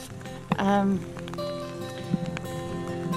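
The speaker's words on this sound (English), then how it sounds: "It's not stopped raining or thundering." Rain falls steadily during a thunderstorm on a mountain climb in Spain, a soft continuous patter under a voice, with a couple of sharp knocks.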